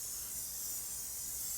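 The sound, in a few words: cooking spray sprayed onto a pan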